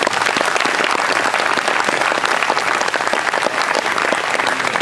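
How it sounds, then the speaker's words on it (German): An audience at a Carinthian festival celebration with a singers' group gives honored guests a short, steady round of applause, dense clapping throughout at a constant level. "darf Sie bitten, für alle diese Ehrengäste um einen kurzen Applaus"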